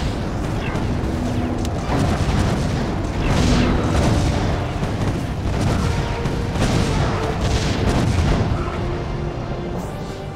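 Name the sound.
cannon fire in video game Defense Grid: The Awakening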